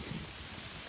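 Steady wet rain on the Appalachian Trail near High Point Monument, a soft, even hiss of falling drops that is faint and continuous, with no voices.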